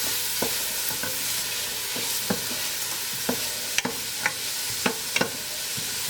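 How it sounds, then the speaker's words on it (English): Onion and celery soften in a soup pot with a low, even sizzle, while a spoon stirs and taps against the pot at irregular intervals, close and clear. "We just want to soften the onion and the celery."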